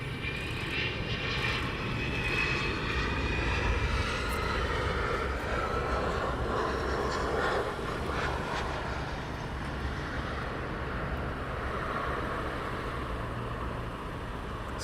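A West Atlantic aircraft arrives at East Midlands Airport, its engines a steady, broad roar that holds loud and close across the whole stretch with no voices.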